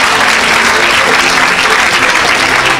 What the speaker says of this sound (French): Donne une acclamation à Jésus